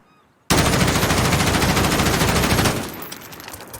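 Sustained automatic gunfire from a Modern Warfare video game during a horizontal recoil test, a loud dense burst that starts abruptly and runs about two seconds before dropping to quieter trailing shots and echo.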